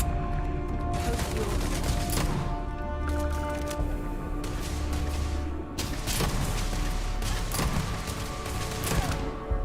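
Revolver shots in the Starfield space role-playing game ring out as several sharp, loud bangs in quick bursts amid other combat noise, with someone talking in Russian over them.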